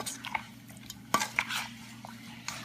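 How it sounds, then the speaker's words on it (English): A spoon mixes sticky honey barbecue sauce through chicken wings in a bowl, giving soft wet squishes and a few light clinks of metal against the dish, close and quiet. "just take a spoon and mix the sauce around on it"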